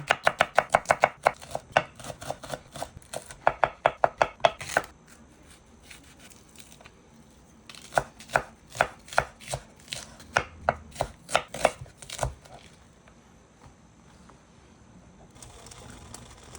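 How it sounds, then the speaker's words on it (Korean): Knife chopping bell peppers for Chinese-style pepper stir-fry on a cutting board: bursts of rapid, crisp chops close up, broken by quieter stretches of trimming and handling, then more fast chopping runs. "야채 다듬을게요 속 씨는 빼고요 이렇게"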